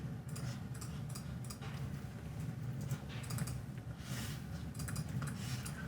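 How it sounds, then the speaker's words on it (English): Faint clicks of a computer mouse being double-clicked arrive in quick irregular bursts, quiet against a low steady room hum. "There's a lot of double clicking around"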